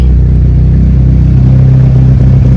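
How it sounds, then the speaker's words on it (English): A 2006–2011 built Honda Civic with an R18 engine runs just after being started on a hot 99-degree day, a loud, close, steady low hum with a faint rise in pitch, and no voices. "Cranks up just fine."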